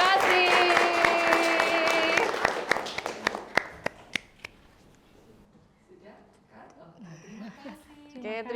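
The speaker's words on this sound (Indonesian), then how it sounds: "Tepuk tangan" A crowd applauds with dense clapping that fades into a few scattered claps, followed by quiet murmuring and a voice starting to speak.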